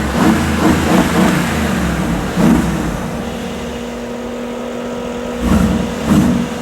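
Mercedes G63 AMG with a 5.5-litre bi-turbo engine idles with a steady, close drone, then gives three short, loud revs near the start, middle and end.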